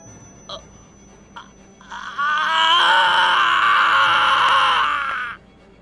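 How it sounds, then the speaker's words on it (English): Eel, a character in the Café Enchanté visual novel, lets out a long, loud, strained scream that swells and holds for about three seconds, preceded by a couple of brief softer vocal cries. "Eel's scream rings out."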